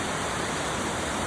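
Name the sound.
stream of water flowing in Manali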